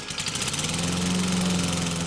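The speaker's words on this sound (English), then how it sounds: "The sound of his lawnmower incited the bees." A suburban backyard lawnmower engine runs steadily and loud, a close, continuous droning hum with a rough vibrating texture and no talk over it.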